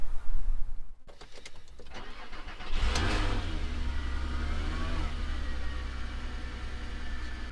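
An Audi TT 3.2 V6 with a misfire cranks briefly, catches and settles into a steady idle, the engine running close and loud with a constant low hum.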